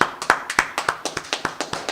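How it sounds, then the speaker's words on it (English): A few people clap in a quick, fairly steady rhythm during an evening scripture class, sharp close claps of about six or seven per second. "Let's clap it up."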